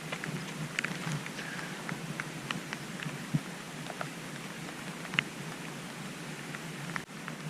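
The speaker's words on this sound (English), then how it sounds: "when it's raining like now or even heavier, I'm dry." Steady rain pattering on a Hilleberg Unna tent during a multi-day hike in the Alps, a continuous soft hiss with scattered louder drops, heard from inside, no talk.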